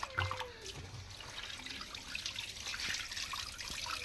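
Fish pieces being washed in water, a steady run of trickling, dripping and sloshing that continues throughout at moderate loudness, with no voices.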